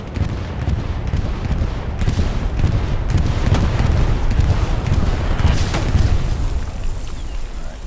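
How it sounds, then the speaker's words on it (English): Heavy, continuous rumbling barrage of bombing-run explosions in the World War II shooter Hell Let Loose, dense booms rolling over one another at steady loud volume, with faint voices under the blasts. "Bombing run."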